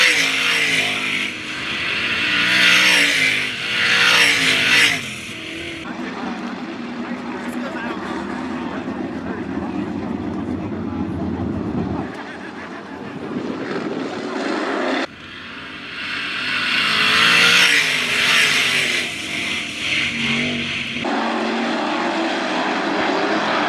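305 sprint cars race at Attica Raceway Park in a heat race, their engines a loud, shifting roar that swells and fades as the pack passes, heard from the stands with an announcer's voice over the PA.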